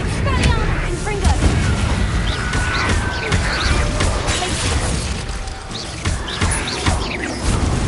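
Confringo explosive spell blasts in Hogwarts Legacy on PS5, a dense, loud wash of booming impacts and crackling debris that runs continuously, with repeated heavy thuds punctuating the chaotic combat noise.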